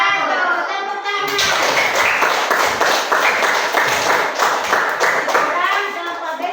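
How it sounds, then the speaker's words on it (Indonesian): Applause in a classroom gathering, many hands clapping in a fairly rhythmic, sustained burst for several seconds, close and lively, with children's voices mixed in under the claps. "Tepuk tangan."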